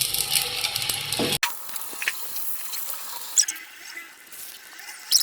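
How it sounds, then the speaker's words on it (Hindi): Chicken hot dogs fry in ghee in a hot pan, giving a soft, steady sizzle with small crackles and pops, close up, under occasional talk. "ये जो हमारे हॉट डॉग्स हैं इनको हम फ्राई करेंगे"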